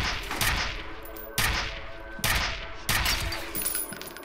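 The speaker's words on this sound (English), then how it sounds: "the shotgun in slow motion, it's poetry" Shotgun blasts fired in slow motion in the video game F.E.A.R., loud and booming, with four heavy shots spaced about a second apart, each trailing into a long stretched-out roar and rumble, with no talk.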